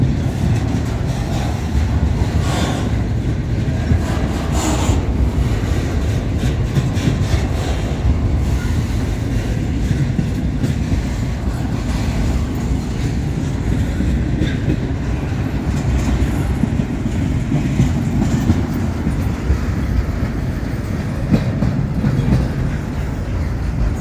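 Continuous rumble and rhythmic clatter of train cars rolling past on the rails, loud and steady, with occasional metallic squeaks from the wheels.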